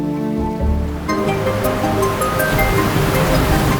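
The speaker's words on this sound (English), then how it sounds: "strangely shaped cliffs plunge down into the wild waters of the Atlantic. Los Hervideros." Wild Atlantic surf pounds the jagged volcanic cliffs of Los Hervideros on Lanzarote, a dense, continuous roar of churning water that stays loud and steady throughout, with no voices.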